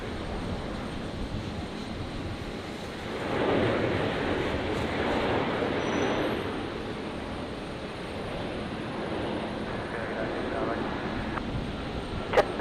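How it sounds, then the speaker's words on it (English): An Airbus A350-900 arriving from Auckland touches down on runway 19 left at Brisbane Airport at night, a broad steady roar of jet noise at moderate distance that swells midway and holds under faint background sound. "The 350-900 touching down from Auckland on"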